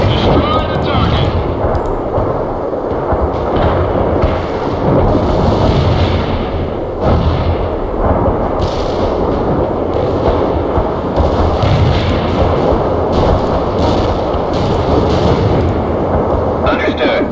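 Heavy artillery fire during a World in Conflict battle, a dense rolling barrage of booms and rumbling blasts that continues without letup, loud and close, with voices in the mix.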